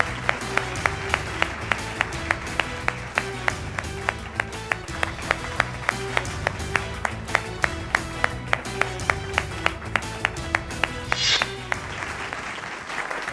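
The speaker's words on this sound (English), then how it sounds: "Well, on that round of applause," Audience applause at a fitness campaign event as a guest is welcomed on stage, steady crowd clapping sustained throughout at moderate loudness, with rhythmic music underneath.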